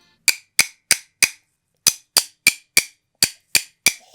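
Eleven short, hard drum strikes with the stick stopped tightly against the head, giving a thin, clipped tone, played in groups of four, four and three with brief pauses between groups, close and alone.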